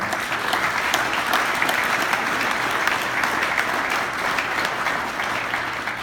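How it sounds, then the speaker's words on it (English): Audience at an OCR event applauding in honor of Jim Lorimer, a sustained, even roar of many hands clapping that holds steady for several seconds without talk. "And Jim, I want to give you a round of applause"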